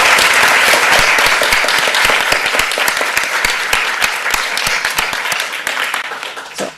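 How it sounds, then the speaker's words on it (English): Loud, close audience applause after a set of lightning talks at a festival, a dense burst of many clapping hands that gradually thins into more distinct individual claps as it fades. "I think that we need a collective round of applause for everyone."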